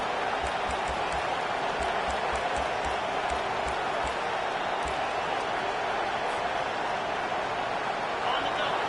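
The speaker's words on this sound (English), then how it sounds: "Here comes this home crowd as the defense tries to get off the field on third down" The home crowd roars at a Georgia Tech football game as the defense faces third down. The noise is a loud, continuous wash, with rhythmic thumps in the first few seconds.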